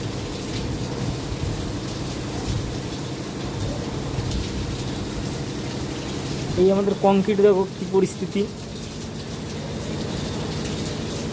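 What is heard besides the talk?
heavy rain falling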